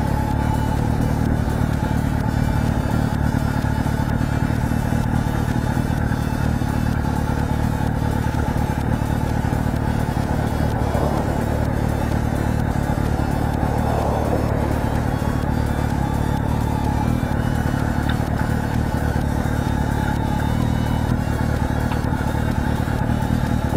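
A motorcycle engine runs steadily as the rider eases out the clutch and opens the throttle, a low continuous drone with mild rises in revs and no talking over it.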